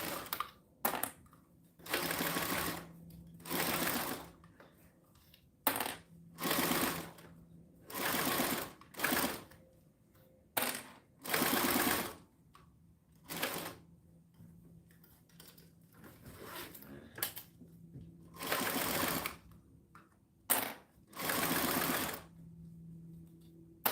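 Sewing machine stitching a quarter-inch seam allowance in repeated bursts of a few seconds each, separated by brief pauses, running fairly close and steady with no talking.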